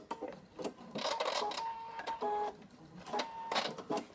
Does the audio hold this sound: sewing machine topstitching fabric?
yes